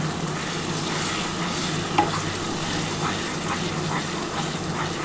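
Spice masala for a potato chicken curry sizzles steadily in a pan just after a little spice water is added, a dense close hiss with soft stirring scrapes and one brief clink of a utensil.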